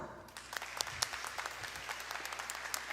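An audience at a presidential dialogue event applauds to welcome a congressman and presidential candidate of the Alianza Unidad Nacional, with fairly quiet, sustained clapping and a few sharper claps standing out.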